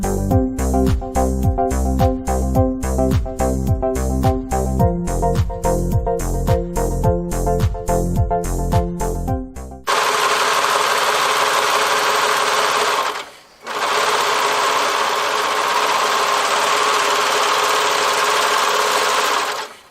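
A serger gathers shirt fabric with the stitch set to number 7 and tension turned all the way up, running loud and steady with a rapid rhythmic stitching chatter, briefly stopping once before starting again.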